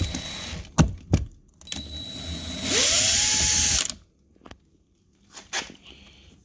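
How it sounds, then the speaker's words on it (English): A power drill backs screws out of a 2016 Mazda 6 door trim panel, with a steady whirring burst of about a second followed by scattered clicks and handling knocks nearby. "So we're going to take our drill and we're going to go ahead and pop those out as well."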